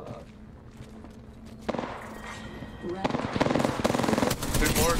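Video game gunfire starts as sparse, scattered shots and builds into loud, rapid automatic bursts in the second half, with voices talking over the shooting.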